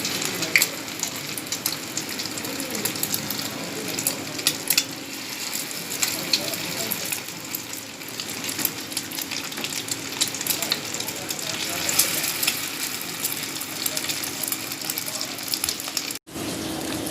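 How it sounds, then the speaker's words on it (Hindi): Homemade chicken shami kababs fry in hot oil, a dense, loud, unbroken sizzle that holds steady throughout with faint bubbling, cut off abruptly near the end. "ये देखिए कितने अच्छे ये फ्राई हो रहे हैं।"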